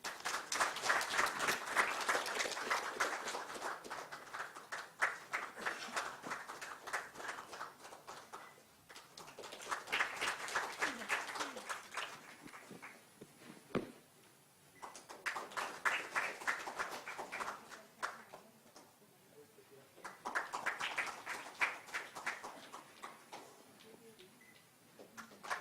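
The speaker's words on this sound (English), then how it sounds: "A big round of applause for" Applause at a Spinal Injury Awareness Day event: faint, distant clapping swells in four or five bursts with quieter gaps between, scattered ticks and murmurs in the lulls.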